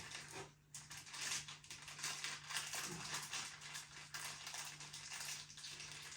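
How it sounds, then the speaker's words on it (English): A crinkly food bag from Aldi's Gastro hoisin chicken tenders, turned inside out, is struck on its side, giving close, fast rustling taps and crackles over about six seconds with no talking. "turn the bag inside out and hit the side of the bag"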